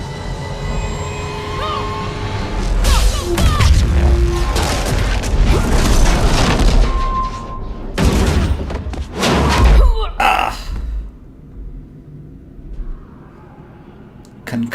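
In a video game battle on Insanity difficulty, a Concussive Shock power sets off heavy, booming blasts amid clanking combat noise. Several bursts come in rapid succession, then the scene fades to a quieter hum with a last thud.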